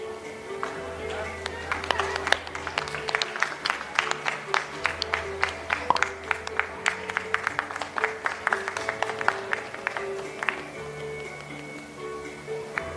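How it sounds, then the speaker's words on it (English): An audience at a palliative care workshop applauds as a moderator receives a memento, steady scattered clapping throughout with a low hum and some talk underneath. "A round of applause for sir"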